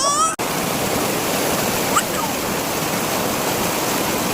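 Water flowing in a small stream, a dense, steady rushing wash close by, continuous throughout after a brief tonal squeak and cut at the very start.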